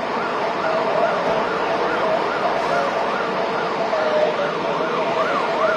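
Loud wailing fire truck sirens rise and fall continuously, several overlapping, close by amid steady traffic noise in Hong Kong.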